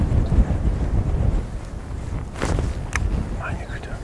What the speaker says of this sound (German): Das ist so ein starker Wind.